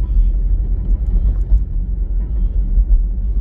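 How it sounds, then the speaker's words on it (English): A Citroen ZX Volcane drives along a road, heard from inside as a constant low rumble of engine and road noise. Slight bumps swell and fade within it, and no voices are present. "First time out in the Citroen. First time I've driven it."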